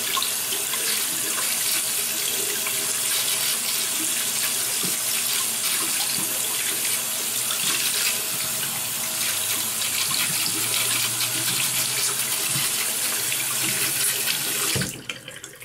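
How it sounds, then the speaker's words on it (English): Warm water runs steadily from a tap into a sink before shaving lather is prepared, a constant broadband rush lasting nearly the whole stretch and cutting off abruptly at the end. "I'm waiting for the warm water to commence"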